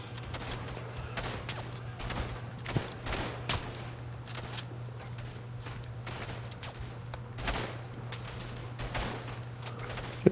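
In the World War I shooter Verdun, rifle and machine-gun fire crackles in scattered bursts, a mix of near sharp cracks and distant pops over a steady low hum, with no talk.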